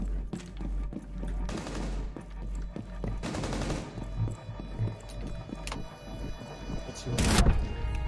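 Gunfire in Rainbow Six Siege: a few sharp scattered shots amid game ambience, ending in a loud close burst near the end.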